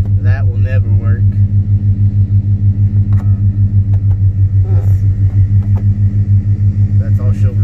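Ford Coyote V8 swapped into a project car idles steadily with a deep, even pulsing rumble close by, while people talk over it throughout.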